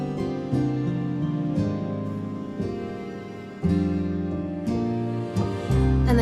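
Sustained synth-style chords drenched in Valhalla Shimmer reverb swell and shift in blocks, each chord blooming then dropping out sharply, ending in a low rumble, with no voices present.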